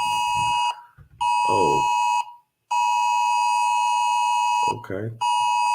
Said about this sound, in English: the doggone winter advisory joint just hit my phone